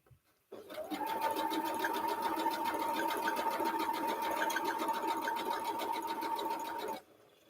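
A domestic sewing machine stitches a quilt in one steady run of about six seconds, a fast, even mechanical whir with rapid needle ticking that starts abruptly and cuts off cleanly, close and alone.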